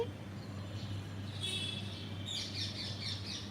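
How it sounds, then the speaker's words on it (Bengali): Birds call faintly in the morning outdoors, with short high chirps and squawks in the second half over a low steady hum and soft background murmur. "ডাকে পাখি"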